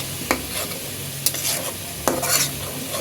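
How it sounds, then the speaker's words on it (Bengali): Spice paste for a papaya fish curry fries in a pan with a steady sizzle, while a spoon scrapes through it in three distinct stirring strokes. "মশলাটাকে ভালোভাবে কষায় নেব যেন তরকারিটা খুব স্বাদ হয়"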